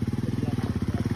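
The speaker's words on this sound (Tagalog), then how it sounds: "pasok pala yung motor" A motorcycle engine runs at a campsite on a rough trail in Palawan, a loud, close, steady pulsing chug over a brief stretch.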